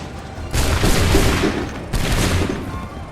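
A gunfire volley in Assassin's Creed 3 rings out as two loud musket bursts in quick succession, each a rolling crackle of many shots fired together that decays into a booming rumble.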